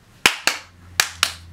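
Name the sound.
hand clapping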